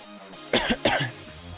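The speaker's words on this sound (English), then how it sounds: "I feel like I'm going to have this freaking dry cough forever" A dry cough, two quick harsh bursts close together, heard up close over a low steady background hum.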